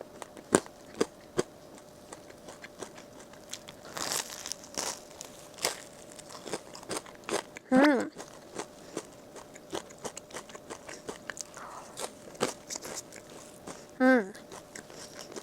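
Crisp bites into a salt bread topped with crunchy nurungji (scorched rice) crust, giving a few sharp crunches and chewing sounds close to the mic, with talking between bites.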